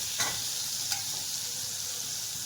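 Butter melts in a pan for white sauce pasta, a soft, even sizzling hiss close by with a couple of brief clicks near the start.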